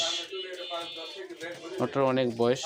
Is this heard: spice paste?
no